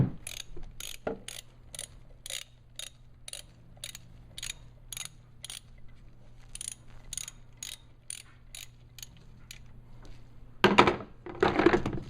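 A ratchet with a 10mm socket loosens an ignition coil bolt on a 2002 Chevrolet TrailBlazer. It gives a rapid, steady series of close clicks, then a few louder rustling clunks at the end.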